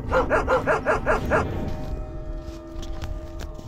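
A dog in the Fallout Shelter video game barks in a quick run of about seven loud, evenly spaced barks, then falls quiet under low background noise and faint clicks.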